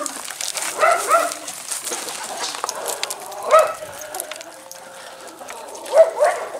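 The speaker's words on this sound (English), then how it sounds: "neighbor's dog." A neighbor's dog barks at a distance, three short separate bursts spaced a few seconds apart over outdoor farm ambience.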